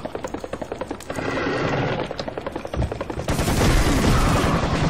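Horse creatures in the video game Serious Sam HD let out loud, sharp neighs and whinnies over rapid rhythmic clip-clop thuds and bursts of game noise, growing denser and louder toward the end.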